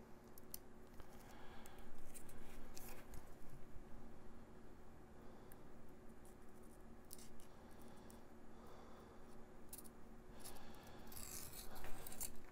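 A razor blade trims excess film from a sun-faded LCD gauge panel, making faint, irregular scraping and slicing strokes against a quiet background.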